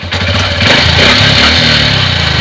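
A motorcycle engine started by hand-spinning the wheel revs up loudly and close as the throttle is twisted, its rough buzzing drone swelling and holding high for a couple of seconds.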